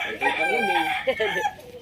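Chickens cluck close by while a rooster's crow rises over them, a brief burst of mixed farmyard calls.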